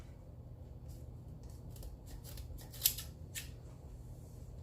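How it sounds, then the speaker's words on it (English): Scissors snip through a piece of rope for a sweater pumpkin craft, a few soft close cuts with one sharper snip standing out over a low steady background hum. "we're gonna take a piece of our rope and we're gonna cut it about 14"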